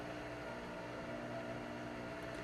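A Cuisinart stand mixer runs steadily while blending batter with vanilla extract, a faint, even motor hum with a constant whir and no talking.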